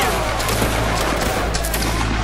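Dense, continuous video-game gunfire fills the clip, a loud sustained barrage of overlapping shots with no clear gaps, while voices talk faintly underneath.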